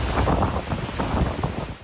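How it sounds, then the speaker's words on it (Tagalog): Strong super typhoon wind in Batanes, roaring and buffeting the microphone in a continuous heavy rush with gusty surges, alone. "Sa lakas ng hangin at ulan"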